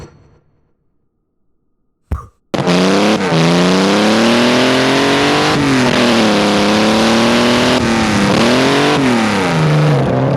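Simulated exhaust note of a six-cylinder engine spinning at 6000 RPM, starting after a brief click as a loud, steady buzzing drone with harmonics that dip and rise slightly in pitch, continuing alone to the end.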